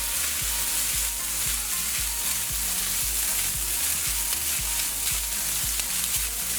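Egg and lap xuong sausage sizzle steadily in a hot wok, a dense continuous frying hiss broken by regular low knocks and scrapes of stirring and tossing, close and fairly loud, with no talking.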